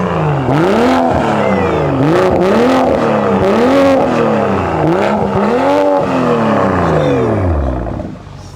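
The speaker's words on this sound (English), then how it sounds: "Gio, give me some revs. Let's hear this thing." A BMW engine with an aftermarket exhaust revs hard again and again in rhythmic bursts through a loud, raspy exhaust, close up, then drops back to idle at the end.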